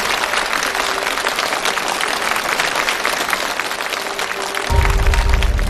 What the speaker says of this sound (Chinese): 来，我们掌声送给送给两位